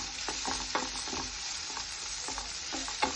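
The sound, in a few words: thinly sliced onions and tomatoes frying in pan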